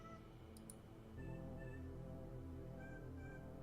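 Cat meows rise over a steady backdrop of game music and ambient tones, a few drawn-out calls sitting at moderate level in the mix of a cat-themed game.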